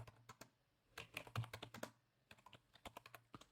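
Typing a command on a computer keyboard: a quick, irregular run of close, crisp key clicks in short clusters with brief pauses, alone with no talk.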